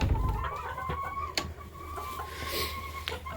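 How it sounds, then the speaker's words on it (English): Several chickens cluck and murmur close by, with an occasional sharper squawk, over a low background rumble. "So we've got a crap ton of chickens."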